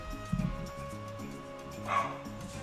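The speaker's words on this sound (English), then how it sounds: "There's background barking." A dog barks a few times in the background, faint and distant, over a steady low electronic hum.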